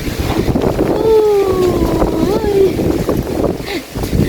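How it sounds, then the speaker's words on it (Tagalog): Gusty wind buffets the microphone outdoors among garden plants, with low rumbling bursts, while a voice speaks Filipino over it and a faint tonal whine drifts by in the background. "Yan na naman ang hangin."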